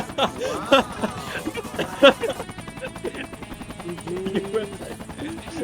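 Helicopter in the military game Project Reality BF2, its rotor chopping in a rapid rhythmic beat that is loud and close and carries on steadily while voices talk in the background.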